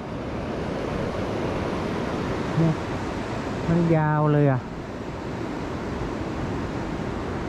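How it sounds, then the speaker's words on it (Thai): Strong sea waves roll onto a beach at a national park campsite in Thailand, a steady loud broadband wash of surf with wind, and someone speaks briefly over it partway through. "คลื่นก็ถือว่าแรงเหมือนกันเนาะ"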